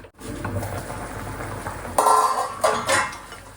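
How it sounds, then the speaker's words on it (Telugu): A metal lid set down onto a cooking pot of simmering Telangana-style country chicken curry in a home kitchen, giving a sharp clank followed by a couple of lighter rattling clinks, close and fairly loud over a quiet kitchen background. "మళ్ళీ ఇప్పుడు మూత పెట్టేసుకోవాలి."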